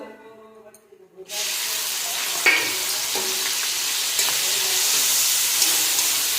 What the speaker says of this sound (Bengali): তেলের মধ্যে দেবো সামান্য লবণ সামান্য হলুদ চিংড়ি মাছগুলো দিয়ে দেবো